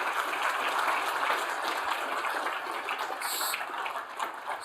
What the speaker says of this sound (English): I'd like to give a round of applause to every company that pitched us today